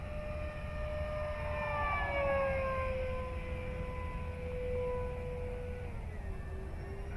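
An Avios Bushmule V2 RC plane's electric motor whines overhead as the throttle comes up, its pitch sweeping higher and then gliding back down. The motor stays fairly faint and distant over steady outdoor wind noise.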